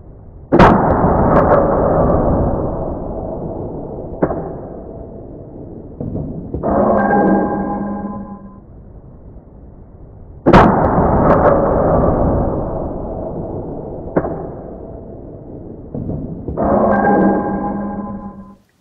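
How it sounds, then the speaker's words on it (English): Two suppressed rifle shots fired through a rifle fitted with a Gemtech suppressed bolt carrier group, about ten seconds apart. Each loud, sharp report is followed by a short stretch of mechanical clatter, with no voices. "I'm just going to film two shots with it on the suppressed mode"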